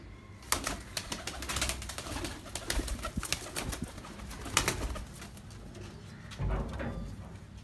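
Pigeons cooing close by, with bursts of wing flapping and scuffling scattered throughout, no voices.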